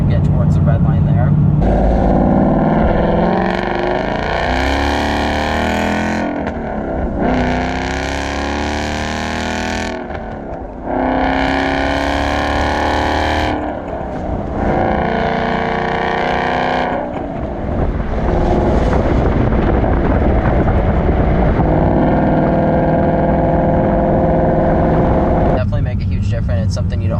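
2017 Ford Mustang GT V8 engine revving loudly in repeated long pulls toward the high end of the rev range, each rise and fall separated by brief dips, close and dominant throughout.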